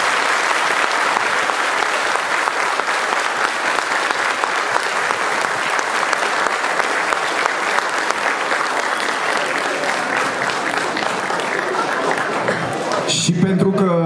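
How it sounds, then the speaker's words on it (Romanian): Sustained applause from a large audience at an FC Argeș football club anniversary event, a dense steady clapping that fills the room for over ten seconds before fading out near the end. "Haideți să aplaudăm, să ne audă până acolo sus în cerul."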